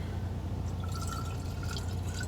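A little water is added to spaghetti sauce in a semi-truck cab kitchen, with soft trickling and drips over a constant low engine-like rumble and no talking.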